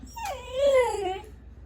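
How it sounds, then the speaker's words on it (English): A nine-week-old Dogo Argentino puppy lets out a single drawn-out howl that rises and then slides down in pitch. It sounds close but fairly soft against a faint background hum. "But baby Red, who is the one who just said, who howled at me"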